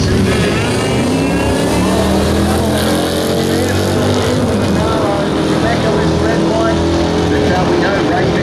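Super Street drag race cars at the 2017 Winter Nationals roar loudly and continuously, engines dense and sustained, with a commentator's voice running over the din.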